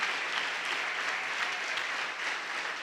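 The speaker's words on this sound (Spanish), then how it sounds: "Dele aplauso al Señor." A church congregation applauds during a sermon with sustained, dense clapping from a large crowd. The sound is even and continuous at moderate loudness and stays unbroken for about three seconds.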